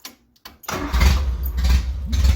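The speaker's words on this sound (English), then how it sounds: "I decided to start with the noisy exhaust." A 1975 MG Midget engine cranks and catches, then runs with a loud, rough, rumbling exhaust needing repair, heard up close with no talking.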